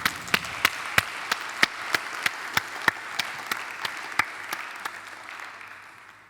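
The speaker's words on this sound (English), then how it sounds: "a round of applause" An audience at the Ubuntu Summit 2024 conference talk applauds, with sharp individual claps standing out over a steady wash of clapping that gradually tapers off.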